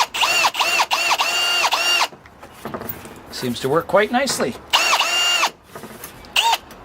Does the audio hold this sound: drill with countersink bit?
yes